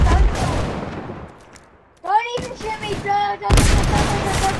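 Automatic gunfire rattles in dense bursts during a Fortnite prop hunt match, loud and close, falling quiet for a moment before a rising whistling tone and then another heavy burst of shots.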